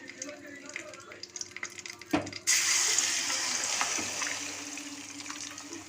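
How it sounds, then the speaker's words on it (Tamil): A mixer grinder jar is rinsed with water while cooking egg curry, with a few soft kitchen clinks, then a sudden gush of pouring, sloshing water that continues steadily at close range. "லாஸ்ட்டாக வந்து இந்த மிக்சியை கொஞ்சமாக அலசி ஊற்றிக்கலாம்"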